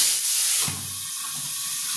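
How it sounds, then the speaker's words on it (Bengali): Singhi fish, a stinging catfish, hits hot oil in a pan with a loud, close burst of hissing spatter that then drops to a softer, continuous sizzle. "তেলটা গরম হয়ে গেছে, এবার আমি মাছগুলো ভাজা হতে দিয়ে দেবো"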